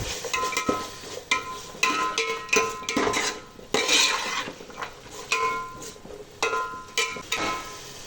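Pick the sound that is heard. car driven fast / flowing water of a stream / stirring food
stirring food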